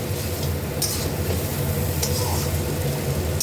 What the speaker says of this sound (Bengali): আলুটা দিয়ে আমি আরেকটু কষিয়ে নেব এই ঝোলটাতে